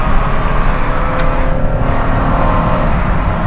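Car pulling in second gear out of a hairpin on a mountain road, a steady engine drone rising slightly as it accelerates, heard close from inside.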